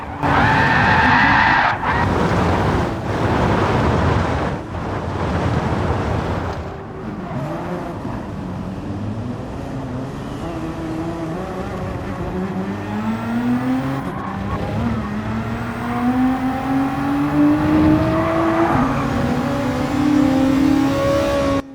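A race car in Gran Turismo 7 at Road Atlanta spins off the track during a Manufacturers Cup race, with engine revving, rising and falling pitch, and tire skidding, loud and continuous throughout.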